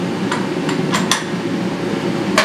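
A vise handle loosens a machine vise in a shop, giving a few sharp metallic clanks and knocks over a steady background hum.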